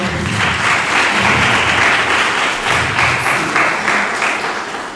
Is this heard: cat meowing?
no